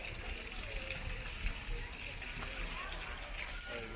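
Water from a garden waterfall at a resort in Cozumel, Mexico, rushes and splashes in a steady wash, with people talking faintly in the background.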